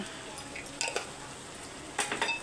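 Garam masala being stirred into chicken curry in a metal pan, with a few light scraping clinks of a spoon against the pan near the middle and end, over a soft background hiss.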